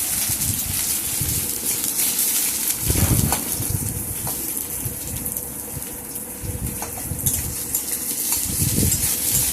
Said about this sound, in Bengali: দিয়ে ভালো করে আমি আবার একটু ফোড়নের সাথে নেড়ে চেড়ে পেঁয়াজগুলোকে মিশিয়ে দেব